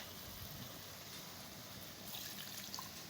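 Tap water runs in a steady, full hiss while cut food is rinsed under it in a home kitchen during curry cooking, continuous and fairly close with no talking.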